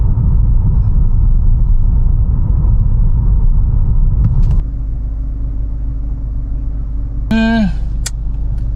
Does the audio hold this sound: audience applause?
no